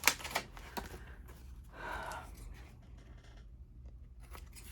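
Scissors snip and slide through paper for a travel journal, with a few crisp cuts at the start and a longer rasping cut near the middle, close and fairly quiet against a soft room background.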